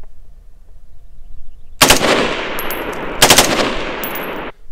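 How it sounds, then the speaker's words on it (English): Full-auto rifle fire at a long-range shooting session aimed at targets a mile away, heard as two long, loud sustained bursts after a quiet start, with nobody talking. "I'm still shooting."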